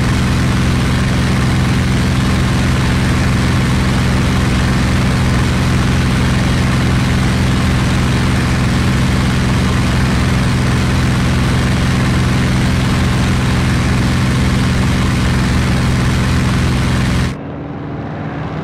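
A steady, droning P-47D Thunderbolt piston engine in a flight game hums continuously with strong low harmonics, loud and close, cutting off abruptly near the end.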